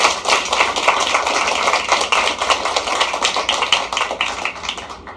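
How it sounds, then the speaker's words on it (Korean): A church congregation claps in thanks, a loud, close, steady patter of many hands that fades away at the very end. "이런 은총을 주신 하나님께 우리 감사의 박수를 드립니다."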